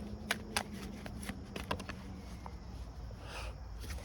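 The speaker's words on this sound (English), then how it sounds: "Let's shuffle this again." A deck of tarot cards is shuffled close up, giving soft riffling and light flicking taps throughout four seconds with no talking.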